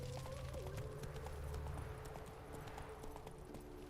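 Roach, the horse in The Witcher 3, trots with rhythmic clip-clopping hooves. The steady footfalls stay under a continuous hum of game music and ambience.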